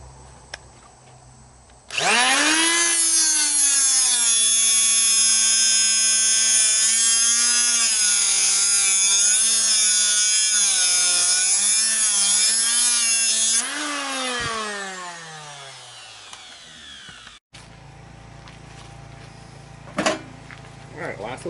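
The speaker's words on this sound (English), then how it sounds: "Well, here we go grinding again." A grinder working metal for a two-brick forge, a loud steady high-pitched whir lasting about twelve seconds before winding down, followed by quieter clatter and handling.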